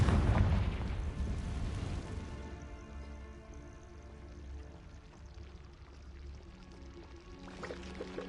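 A Confringo fire spell detonating in Hogwarts Legacy makes one deep booming burst at the start, then a long rumbling decay that fades into quiet game ambience.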